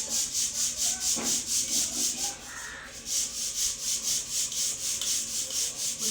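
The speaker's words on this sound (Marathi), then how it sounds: "ही डाळ काढल्यानंतर फटकून घ्यायची" Mung dal being winnowed in a tray at home, a rhythmic whooshing rasp repeating about three times a second, close and steady with one brief pause.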